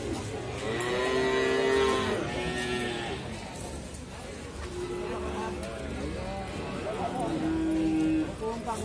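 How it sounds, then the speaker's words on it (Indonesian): Several long, low moos from Simmental cattle rise and fall across the clip, with people talking underneath and a busy barn background. "Jenisnya adalah bakalan sapi simental"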